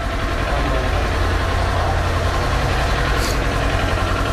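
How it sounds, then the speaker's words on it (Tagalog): A 2023 Kawasaki Ninja 400 two-cylinder motorcycle idling steadily at close range, a continuous low engine rumble with no talk over it. "so maganda na yung idling niya, yung RPM"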